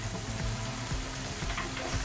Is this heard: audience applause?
no